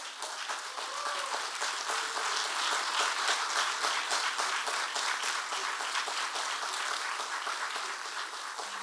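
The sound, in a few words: applause for Hall of Fame class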